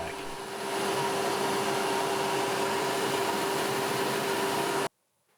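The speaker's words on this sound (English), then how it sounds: "You can also use the spindle sander here to kind of rough in some of the transitions on either end of the neck." A spindle sander runs with a steady, loud whine while it roughs in the transitions on a custom multi-scale Strat-style guitar neck, then cuts off abruptly near the end.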